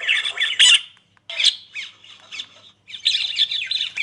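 Recorded bird calls play loudly from a Q92 portable speaker, with bursts of harsh squawking and chirping separated by brief pauses, heard up close.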